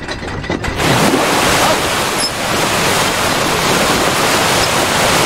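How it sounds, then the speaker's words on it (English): A loud, steady rush of falling water from a waterfall in the game Labyrinthine fills the whole clip, a dense continuous roar with no pauses. "Oh, it's a waterfall. It's too noisy,"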